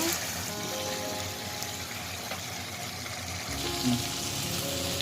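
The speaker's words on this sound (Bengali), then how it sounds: "তো আমি চুলার জালটা মিডিয়াম টু রেখে কষিয়ে কষিয়ে রান্না করতেছি আর খাসির মাংসটা" Goat meat (mutton) simmering and frying in a pot on medium heat, a steady low sizzle and bubbling that runs throughout, close and fairly quiet.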